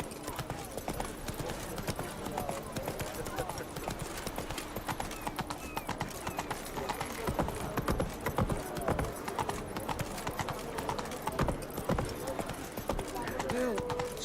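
Hooves of the horse Roach in The Witcher 3 pound in a rapid, continuous gallop rhythm, close and steady, with a brief neigh near the end. No talking is heard over it.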